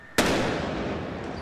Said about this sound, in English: as police attempt to disarm the bombs, one of the robots cuts the line, causing this explosion